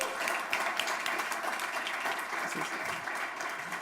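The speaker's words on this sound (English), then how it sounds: "give him a warm welcome by clapping your hands as loud and fast as you can." An indoor audience claps steadily to welcome a speaker at an innovation demo day. The applause is dense and even and lasts about four seconds, with no speech over it.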